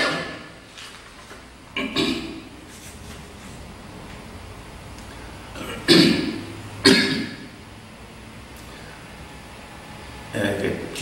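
A lecturer coughs and clears his throat during a recorded Bible hermeneutics lecture, with a few short, fairly loud bursts spread across a quiet room background and no speech between them.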